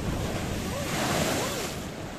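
Sea waves crash against the Paphos promenade shore in Cyprus, a continuous loud roaring surge with wind buffeting the microphone.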